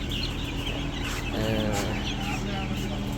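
Many broiler chickens cluck and chatter continuously in a crowded control shed, with overlapping calls over a constant background hum and a few human voices mixed in.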